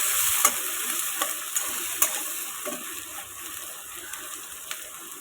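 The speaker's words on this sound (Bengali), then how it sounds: "এটাকে এখন ভালো করে নাড়াচাড়া করে ভাজা করে নেব" Chopped onion and green chilli frying in a pan while being stirred: a close, steady oily sizzle running throughout, punctuated by occasional light scraping clicks of the stirring utensil, with no voices.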